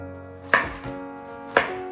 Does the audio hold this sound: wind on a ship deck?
no